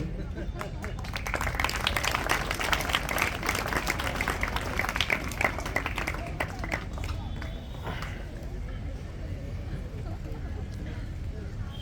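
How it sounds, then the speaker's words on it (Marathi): Audience applause at a Marathi stage program of chat, stories and songs: a dense, steady patter of many hands clapping through most of the stretch, thinning toward the end with a low room rumble underneath. "टाळ्या वाजवायला टाळाटाळ करायची नाही."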